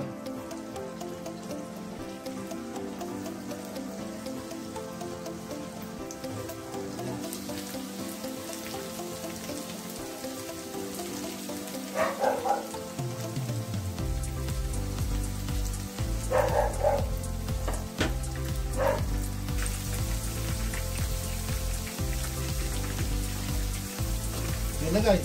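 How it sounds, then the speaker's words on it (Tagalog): Black pepper chicken breast frying in oil: a steady crackling sizzle that grows denser and louder partway through, with occasional sharp pops and brief background noises over a low hum. "So mantika na natin mag-prito."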